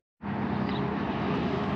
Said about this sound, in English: The highway's busy now near our house, so all we hear is traffic.